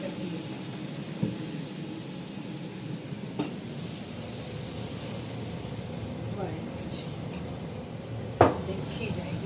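A low, steady sizzle as dal is added to a hot tempering in a pan, with a few soft stirring scrapes and one sharper clink of utensil against metal.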